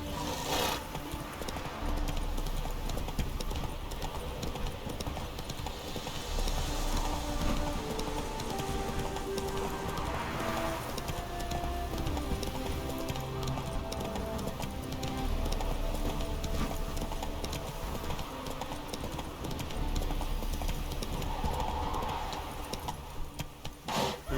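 Roach, a horse in The Witcher 3: Wild Hunt – Hearts of Stone, its hooves clip-clopping at a steady walking rhythm, moderately close, over a constant ambient game background with jingling tack.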